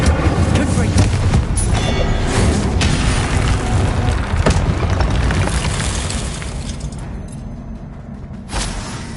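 Booming explosions from the Confringo blasting spell in the video game Hogwarts Legacy, heavy and continuous with a dense rumbling roar that thins out toward the end, with spell effects piling on each other.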